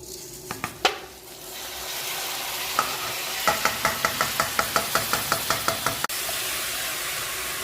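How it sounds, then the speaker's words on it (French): Rice frying in a pot while it is stirred, a steady sizzle under a rapid, even series of about a dozen sharp spoon knocks against the pot, close and clear, with no voices. "Là, je brasse ça pour pas que ça colle dans le fond"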